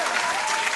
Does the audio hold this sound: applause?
yes